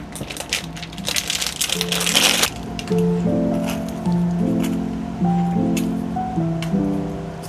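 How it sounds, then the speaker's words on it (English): Bonsai roots and soil being pulled from a pot, with crunchy, crumbling scrapes strongest early on, then softer rustles under steady background music. "Now the next step is to remove the roots and the soil from the pot."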